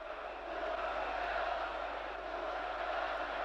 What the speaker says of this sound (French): Quelqu'un dans la foule a crié « Arrêtez Blasi »